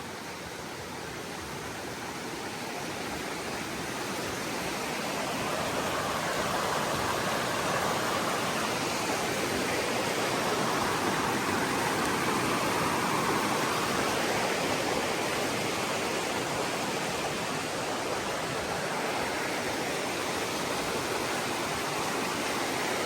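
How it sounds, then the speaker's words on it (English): Rushing water from a mountain stream beside the Appalachian Trail near a footbridge, a dense, continuous broadband roar that swells slightly and then holds steady and close throughout. "When I heard the water rushing, I was afraid we were going to have to ford another stream."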